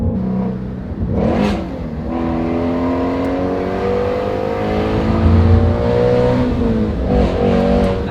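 A Ford Mustang GT350R accelerates hard on a road and briefly loses traction, its engine climbing loudly through rising revs, easing off, then surging again near the end.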